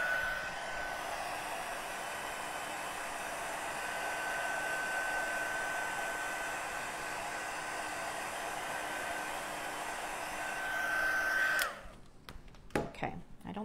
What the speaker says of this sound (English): I'm going to take my heat tool and I'm going to reheat it